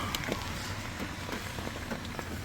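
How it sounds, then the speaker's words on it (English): Steady heavy rain pours down in a constant hiss, with scattered drops hitting nearby surfaces; no talking. "it's literally had a massive downpour"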